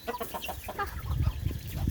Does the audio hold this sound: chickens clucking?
yes